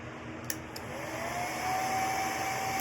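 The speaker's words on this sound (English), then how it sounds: "I'm probably going to hit this really quick with my little air dryer, my blow dryer" A small handheld blow dryer drying fresh paint in a hot garage, a steady whirring hum that switches on and swells slightly louder, running alone without voices.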